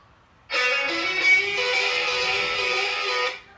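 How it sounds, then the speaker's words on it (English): Two electric guitar takes play the same solo together, a sustained, bright lead line for about three seconds, with slight doubling that makes the tone thick and shimmering. "No, it's actually two playing the same guitar solo at the same time."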